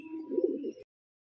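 A single pigeon from a young male and female pair gives one close, warm cooing phrase lasting under a second, then silence.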